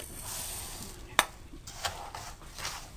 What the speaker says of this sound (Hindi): अच्छी तरह से चीनी को मिलाएं।